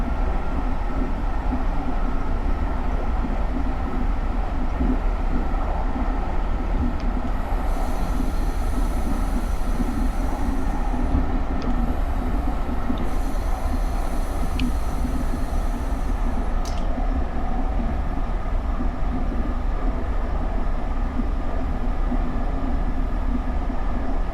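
A GE Silverliner IV electric commuter train on the SEPTA Trenton Line in Train Simulator 2019 rumbles along steadily and loudly, with a constant low drone, rail noise and intermittent high wheel squeals, and no voices.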